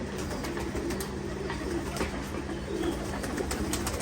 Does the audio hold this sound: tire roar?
no